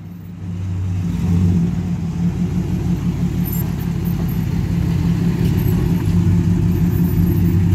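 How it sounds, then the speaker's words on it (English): A car with a loud modified exhaust rumbles steadily nearby, a deep continuous engine drone that swells in after a quiet start and holds for several seconds. "listen to that exhaust."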